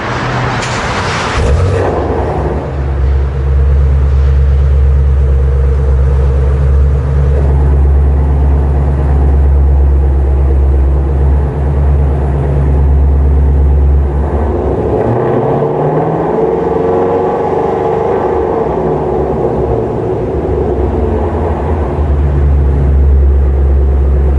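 A loud, deep Ford Mustang GT350 engine with a ghost cam tune idles close by, its uneven lumpy rumble pulsing steadily, with a brief rise in revs near the start.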